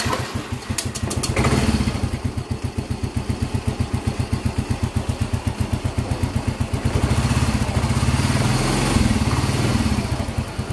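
A Yamaha Mio GT125 scooter engine with a Vario 125 FI piston and a cylinder problem runs with a steady pulsing chug, revved up several times in swelling waves, close and alone.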